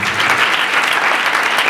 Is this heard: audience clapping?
yes